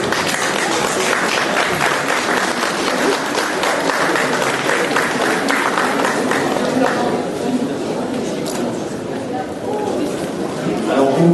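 A crowd applauds at the award ceremony of a 2015 comics festival, with dense, lively clapping that lasts for seconds and slowly thins out, mixed with chatter and voices from the room.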